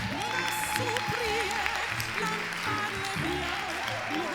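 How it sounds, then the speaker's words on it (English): Applause from the audience at a plant-based gala in London, steady and fairly distant, with music and voices running underneath throughout. "I'll take that as a round of applause for me"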